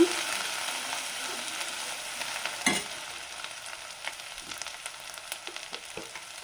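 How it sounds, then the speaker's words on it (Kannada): Ground ginger, green chilli and curry leaves fry in an oil-filled pan for a chickpea usli, giving a steady bright sizzle that gradually softens, with a few clinks and stirring scrapes and no voices. "ಶುಂಠಿ ಮತ್ತು ಮೆಣಸಿನ್ಕಾಯಿ ಕರಿಬೇವು ಅದು ಪುಡಿ ಹಾಕೋಣ. ಇದು ಸ್ವಲ್ಪ ಫ್ರೈ ಆದರೆ ಸಾಕು."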